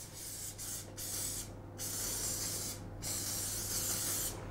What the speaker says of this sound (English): I like to give a nice sort of decent spray to the veggies with the olive oil.